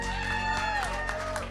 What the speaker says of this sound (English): let's give a round of applause to Elliot Kerr